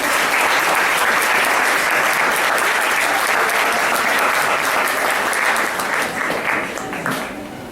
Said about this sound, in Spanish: Bien, un fuerte aplauso para él.